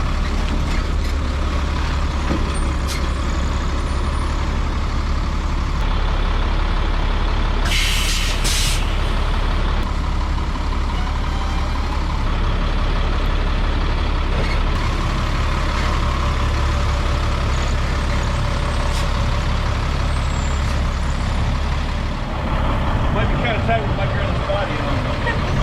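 Semi truck idling and manoeuvring during alley dock practice at a truck driving school, a steady low diesel rumble throughout with air brake hisses and occasional beeps, voices talking over it.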